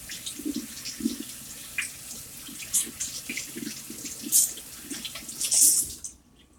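Tap water runs and splashes as potatoes are rinsed in a sink, uneven gurgling and splashing close by before the flow cuts off abruptly.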